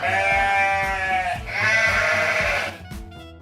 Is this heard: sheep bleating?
yes